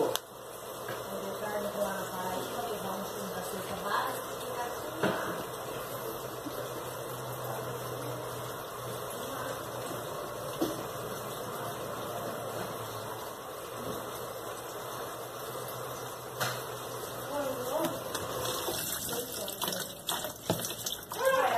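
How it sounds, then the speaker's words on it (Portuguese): Consul CWG12 washing machine filling with water for a single rinse cycle, a steady rushing inflow with a low hum running continuously throughout, with occasional clunks near the end. "agora ela tá enchendo por um enxágue, vai ser um enxágue único"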